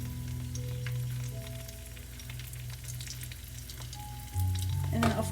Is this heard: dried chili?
yes